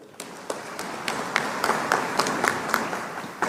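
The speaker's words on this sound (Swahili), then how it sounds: "naomba tuwapigie makofi" An audience at a public event on the environment and clean energy claps, with scattered sharp hand claps spread over a few seconds and fairly light overall.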